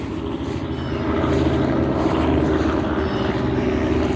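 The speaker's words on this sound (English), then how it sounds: "I hear a helicopter." Steady low rotor-like drone of a helicopter passing overhead outdoors in a spring backyard, continuous and moderately loud with wind buffeting, no talk.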